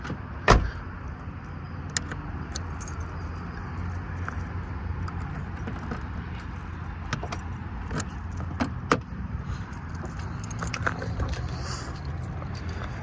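1987 Pontiac Fiero GT being locked with its keys: a single sharp click or clunk near the start, then keys jangling and a few scattered light clicks over a steady low rumble of outdoor or engine noise.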